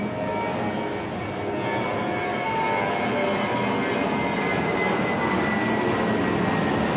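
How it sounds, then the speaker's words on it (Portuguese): A fixed-wing airplane taking off or landing near an airport, a steady broad engine roar that stays close and loud for several seconds with no talk over it. "Eu moro perto do aeroporto, então sempre vai ter barulho de avião, que ele está decolando, está chegando."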